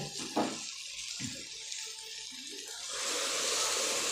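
A few clinks and a pause, then a steady rush of hot water pouring into a pot builds and continues to the end.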